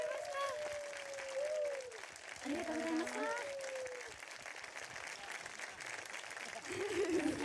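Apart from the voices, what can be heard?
audience applause at a live concert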